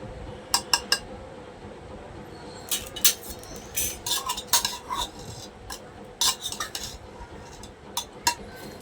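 Chicken being mixed with salt in a pot with a little oil, a metal spoon clinking and scraping against the pot in uneven bursts, close up with no talking.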